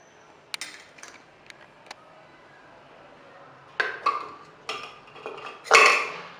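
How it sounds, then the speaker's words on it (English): A ceramic mug set down into a pressure cooker for an eggless cake, giving a few close clinks and knocks near the end after faint scattered ticks of kitchenware, with no talking. "Carefully open the pressure cooker. Put mug into pressure cooker."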